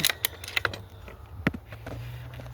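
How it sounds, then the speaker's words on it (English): Quick mechanical clicks and clacks, with a louder snap partway through, as a Barra 250z air rifle is cocked nearby in a quiet room. "Now let's cock it."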